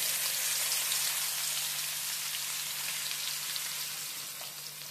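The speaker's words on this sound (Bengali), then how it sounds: "গ্যাসের ফ্লেমটাকে মিডিয়ামে রেখে 2-3 মিনিট ভালো করে পেঁয়াজটাকে ভেজে নিতে হবে" Four large chopped onions fry over a medium gas flame in oil tempered with cardamom and cloves for a chicken dak bungalow curry, giving a steady, close, even sizzle that eases slightly toward the end, with no talking.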